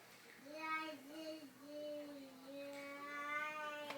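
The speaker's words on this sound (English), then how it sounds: "That's my son in the background trying to talk." A young child in the background trying to talk, making drawn-out babbling sounds without clear words, soft and somewhat distant.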